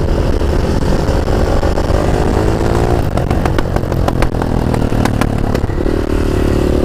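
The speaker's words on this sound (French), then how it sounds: "Ça pétarade bien, hein." A new Beta motorcycle engine runs loud and close, holding a steady throaty idle before a burst of sharp popping backfires crackles over the revs, then settles back to a rough running drone.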